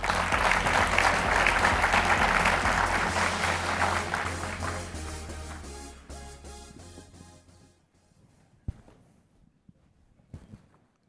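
A large audience at a hospitality-industry startup showcase claps for a presenting founder, full and dense at first, then thinning and fading to near silence after several seconds, with a few stray claps at the end.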